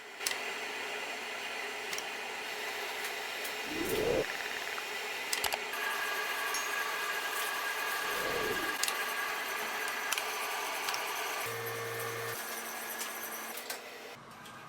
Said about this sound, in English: The now-made dough is added to the donut making machine, where it spits out these ring-like shapes.